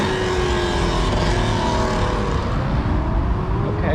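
Sports cars such as Nissan GT-Rs roll out of a Cars and Coffee car show, a continuous loud engine drone with shifting tones as vehicles pass close by.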